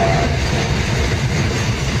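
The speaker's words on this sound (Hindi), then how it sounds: "खाली मालगाड़ी जा रही है" An empty freight train hauled by a WDG 6G diesel locomotive rolls steadily past on the Delhi Ring Railway near Sewa Nagar station, a loud, continuous rumble with rattling wagons close by.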